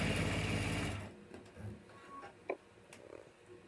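A sewing machine stitches in the ditch along a piped strap with polyester thread, a close, fast steady whir for about a second before stopping, followed by faint handling clicks.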